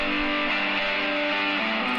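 Overdriven electric guitar with reverb added sustains a bright, thick chord wash, notes sliding between pitches while the tail blends into a smooth, even level.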